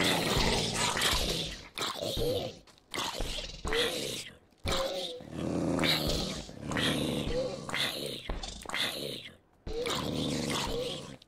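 Dogs growl and snarl over and over in the video game Minecraft, dense and loud, broken by brief gaps, with game noise layered in throughout.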